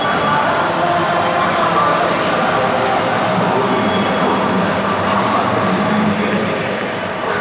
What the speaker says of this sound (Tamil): சென்ட்ரல் ரயில் நிலையம்.